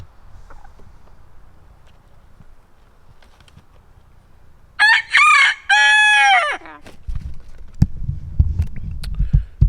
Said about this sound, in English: they start in on their baloney like 5 o'clock in the morning, especially if you have a rooster